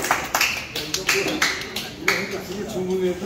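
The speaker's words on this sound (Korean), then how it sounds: "회장님에게 뜨거운 박수" A gathering at a Korean health forum's monthly meeting applauds the chairman over a meal, with uneven, close claps and taps mixed under lively talk.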